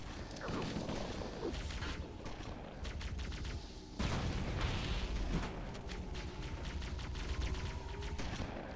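Gunfire in Halo: Combat Evolved comes as rapid, steady bursts of automatic shots over a constant rumble of combat, with scattered blasts and mechanical clatter. It stays dense and loud throughout, with no voices over it.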